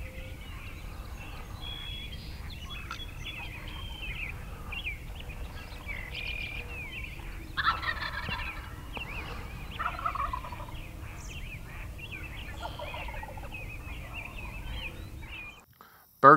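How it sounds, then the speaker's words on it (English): A wild turkey gobbles across a cut cornfield on a hunt, the calls coming in several bursts against steady outdoor background noise, moderately distant and fairly faint. "Had a bird gobbling good across this cut cornfield."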